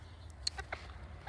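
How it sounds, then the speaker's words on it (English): A tiny all-white Serama bantam hen gives a few soft, short clucks close by in a quiet setting, spaced irregularly over a second. "So here's an all-white cerama hen."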